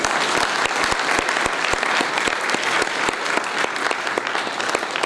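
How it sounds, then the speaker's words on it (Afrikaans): A large congregation gives enthusiastic applause for the young schoolchildren standing up in the audience. The clapping is dense, loud and steady, with crisp individual claps audible throughout and no talking over it. "Kan ons vir ons jong mense lekker hande klap gee."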